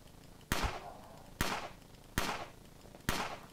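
Four evenly spaced pistol shots in the zombie game Fort Zombie, each a loud sharp crack with a short decaying tail, about one per second.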